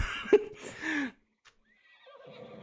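A horse neighs in a video game, a loud nearby whinny rising and falling for about a second, followed by a brief pause and faint trailing game sounds.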